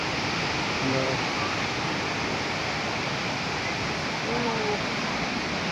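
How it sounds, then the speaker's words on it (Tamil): Spray from the Bomburu Ella waterfall heard from about a hundred metres away, a constant broad roaring rush of water with faint brief voice-like traces in the background. "அந்த நீர்வீழ்ச்சி விழுந்து பெருக்கிற சாரல்"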